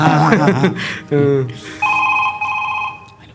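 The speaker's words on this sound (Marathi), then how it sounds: "तुझा फोन वाजतोय, उठ" A mobile phone rings during a Marathi comedy sketch, its electronic tone starting partway through and repeating steadily after brief spoken lines from the performers.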